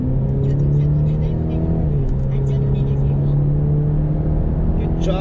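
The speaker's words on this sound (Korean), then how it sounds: "이렇게 쫙 국도에서 이제 밟아주는 겁니다." A Cadillac CT5 in sport mode pulls hard along a country road, its engine a steady, loud, droning hum heard from inside the cabin while someone talks over it.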